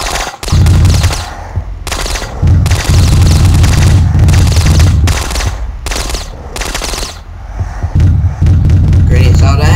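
Repeated grenade blasts in the game Box Head, loud booming bursts with deep thuds arriving in quick succession, separated by short gaps, with speech mixed in.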